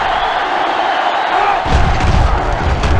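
A packed stadium crowd cheers continuously in NCAA Football 07, a loud sustained roar that gains low-end rumble and thumping partway through.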